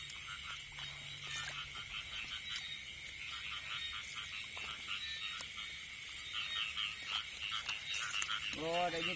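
Frogs croak in a chorus across a flooded rice field being readied for ploughing, with a steady high insect-like drone and a few scattered calls, and a voice cuts in briefly at the end.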